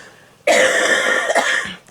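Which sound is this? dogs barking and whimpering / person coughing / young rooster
person coughing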